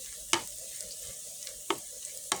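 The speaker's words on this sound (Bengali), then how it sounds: "আর এখানে আমি পেঁয়াজটা ভেজে নিচ্ছি।" Onions frying in oil in a pan for a village-style small fish curry, a soft steady sizzle broken by three sharp spoon taps against the pan, quiet and close.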